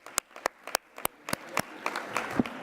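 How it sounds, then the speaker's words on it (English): Applause from a healthcare conference workshop audience, starting as a few sharp, separate claps that quickly thicken into a fuller, steadier round. "Give yourself a big hand of applause."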